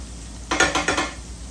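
A redfish fillet cooking in butter in a pan is flipped, making a short burst of clattering scrapes and knocks from the spatula against the pan, then it settles back to a quiet background.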